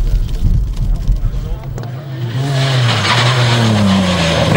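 A BMW M3 rally car driven hard at the TAC Rally 2011, loud engine and tyre skidding up close, then a rising, revving engine note as it pulls away, under a French commentator talking.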